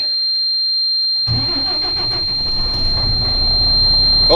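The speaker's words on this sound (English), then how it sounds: "So we're gonna get the Western Star fired up. It is 25 degrees right now, so we're gonna do us a cold start." A Western Star truck's diesel engine cold-starts at 25 degrees: near-silence, then the engine catches at once and settles into a loud, rough, pulsing idle that rises slightly toward the end.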